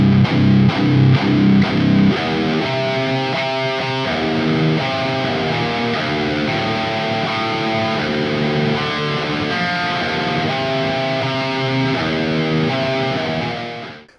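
Heavily distorted electric guitar run through the Neural DSP Archetype Gojira amp plugin, playing thick, saturated chugging chords and riffs at a steady loud level with no talking.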